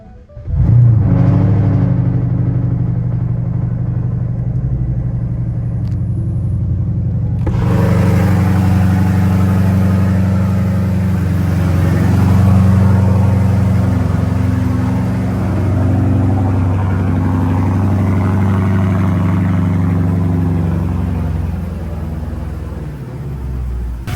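A BMW N63 V8 fires up after a coolant leak repair, catching with a loud rumble, then settling into a steady, deep, throbbing idle close by for over twenty seconds.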